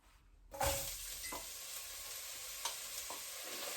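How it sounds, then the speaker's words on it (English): Finely chopped onions and garlic drop into a hot pan for steak and ale stew, setting off a sudden hiss that settles into a steady, moderate sizzle with a few faint utensil taps. "To our pan, we're going to add onions and garlic."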